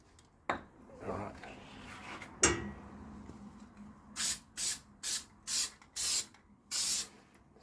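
An aerosol can sprays adhesive onto side pillar lining material in a Land Rover Discovery 3 interior: about six short, sharp hissing bursts in a quick series near the end, after a few handling knocks and a brief voice.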